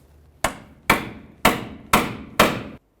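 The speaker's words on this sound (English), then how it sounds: "We might have to give it a couple taps to break it free." Five sharp metallic hammer blows strike a 2012-2016 Subaru Impreza front steering knuckle to break the ball joint free, evenly spaced about half a second apart, loud and close, each ringing briefly.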